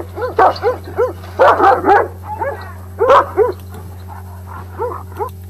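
A dog barks and yips in short repeated bursts, fairly close, with brief pauses between volleys over a steady low hum.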